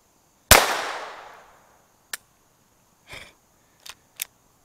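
A Glock 26 third-generation pistol fitted with an Advantage Arms conversion kit firing CCI Mini-Mag rounds: one loud sharp report with a long fading tail, then four smaller sharp clicks and clacks spaced over a few seconds.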